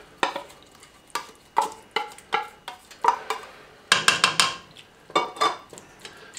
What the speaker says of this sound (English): Just break up the tuna so it isn't in large chunks and then mix that through as well.